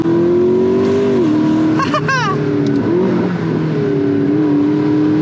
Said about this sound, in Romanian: Deci când accelerezi, te împingi atât de tare încât iei piciorul de pe accelerație.